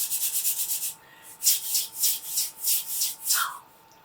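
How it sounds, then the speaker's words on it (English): Wooden sand blocks rubbed together, a quick run of short even scratches followed by slower, louder rhythmic swishes, close and alone. "For the first line of the song, we'll use the wood sand blocks."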